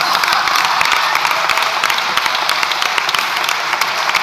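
Sustained applause from a crowd in the Spanish parliament's plenary chamber, dense steady clapping that fills the whole room, loud and continuous, with a few voices faintly mixed in.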